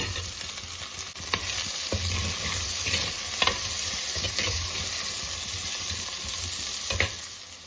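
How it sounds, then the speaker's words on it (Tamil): Steady sizzling of tomatoes sautéing in a pan, with occasional stirring clicks and scrapes, close and continuous without any talking. "தக்காளி ஓரளவுக்கு வதங்கிடுச்சு"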